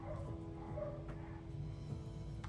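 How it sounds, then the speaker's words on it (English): The neighbours' two dogs bark and yip in the distance, a few faint, scattered barks over a steady background hum, with no talking. "There's a dog barking."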